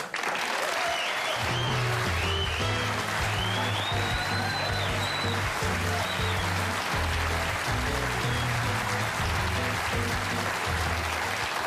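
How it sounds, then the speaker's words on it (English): Studio audience on the Tonight Show gives Alan King sustained applause, a dense steady wash of clapping that holds loudly throughout, with band music underneath. "I'm humbled by that applause."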